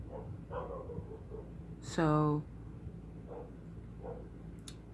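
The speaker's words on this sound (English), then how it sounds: "I don't know what's going on with them, but they're barking." A dog gives one loud, sharp bark in a room, with a few softer yips around it, while someone talks over the top.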